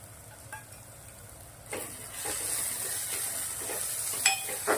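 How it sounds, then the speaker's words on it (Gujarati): Green onion with spices sautés in a pan of hot oil: a soft, steady sizzle broken by occasional stirring scrapes, getting a bit louder partway through, close and without any talking. "થોડી વાર તેલના અંદર મસાલા પર ડુંગળી જોડે સાંતળી લેવાના છે"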